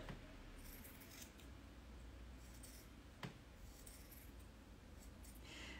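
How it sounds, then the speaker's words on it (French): Scissors cutting pattern pieces from fleece and leather, a steady soft snipping and rustle with one sharper click midway, quiet and close. "on découpe les pièces que l'on a reportées sur le molleton et le cuir"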